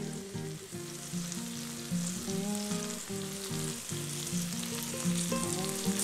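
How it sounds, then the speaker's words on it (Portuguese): Eggs fry in a pan on the stove, a steady close sizzle running the whole time under soft tonal background music, with no voices. "Deixe fritar 1 minuto de um lado. Depois vire e deixe fritar por mais 2 minutos"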